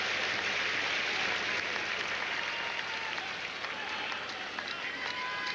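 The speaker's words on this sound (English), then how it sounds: "Matthew Perry clapping on the left." Spectators at a 2002 French Open semifinal between Jennifer Capriati and Serena Williams clap in a steady, dense wash of applause throughout, with a commentator talking over it.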